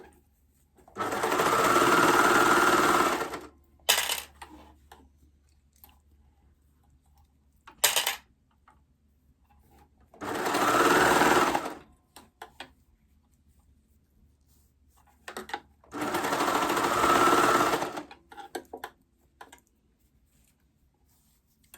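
A sewing machine stitches a Rockford Raglan top by Love Notions in three sustained runs of a few seconds each. Brief clicks and handling knocks from the fabric and machine fall in the pauses between runs.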